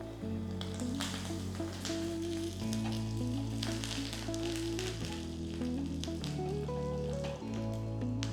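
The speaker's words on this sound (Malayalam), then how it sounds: "തേങ്ങ മൂത്ത് തുടങ്ങുമ്പോൾ നമുക്ക് ഒരു മുളക് കീറിയിടാം, കുറച്ച് കറിവേപ്പിലയും കൂടെ." Grated coconut fries with a slit chili and curry leaves, giving a soft, steady sizzle with light stirring scrapes, fairly quiet and close.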